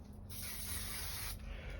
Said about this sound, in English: So I'm going to add a little bit of spray glue